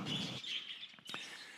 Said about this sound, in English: And they are really an exceptional family of budgies